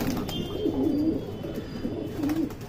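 Madrasi pigeon cooing close by, a few soft, rolling coos repeating at an unhurried pace with steady low background noise and no talking.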